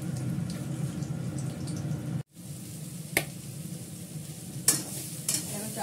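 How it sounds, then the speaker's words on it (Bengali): Thin potato slices fry in a pan with a steady broadband sizzle. A few sharp clinks from stirring break through, and there is one brief drop near the middle. "আলু ভাজবো।"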